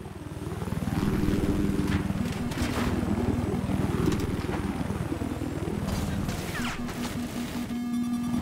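Helicopter in a Battlefield 4 Obliteration match, a loud rhythmic rotor chop with rising and falling engine whine that swells and recedes, with gunfire and impacts near the end and a voice speaking over it.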